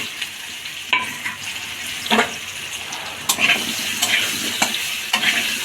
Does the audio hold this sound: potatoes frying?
yes